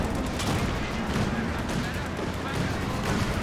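A Bofors anti-aircraft gun fires in Company of Heroes 2 amid a dense, continuous battle din of gunfire and explosions, loud and unbroken throughout.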